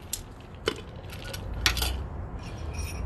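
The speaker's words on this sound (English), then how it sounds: "give it a little shake, chill it down, dilute it up" A cocktail shaker holding a Disaronno Fizz is shaken with ice, giving a few sharp metallic rattles and clinks over a steady rushing hiss, close and moderately loud with no talking.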